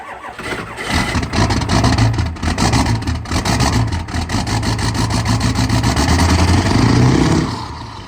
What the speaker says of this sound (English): worst thing you can do with a diesel, besides not changing the oil properly, is sit here and let it idle.